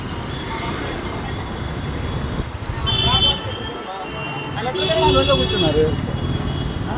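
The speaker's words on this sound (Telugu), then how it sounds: "సో చూడండి ఎంత కోలాహలంగా ఉందో స్ట్రీట్స్ అన్నీ." Busy city street in Vijayawada with steady traffic and repeated horn toots rising above the din, while people talk nearby.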